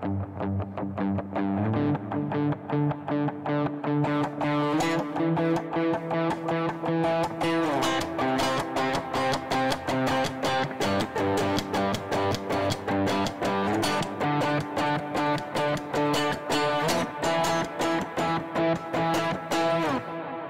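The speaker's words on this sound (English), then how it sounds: "If I put my delay and my reverb back" An electric guitar plays a steady rhythmic pattern of strummed chords, with delay and reverb lending echoing repeats and a washed, spacious tail, loud and continuous.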